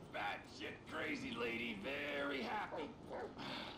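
A dog in GTA 5 yips and barks several times in quick, excited bursts, heard fairly faintly with game ambience behind it.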